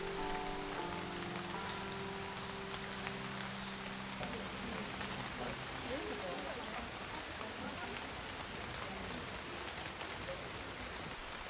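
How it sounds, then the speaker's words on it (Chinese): Steady autumn rain falls on Shirakawa-go's gassho-style village of wooden, thatched houses in Japan, a dense, even hiss and patter of drops that continues unbroken from start to finish. "下雨了。"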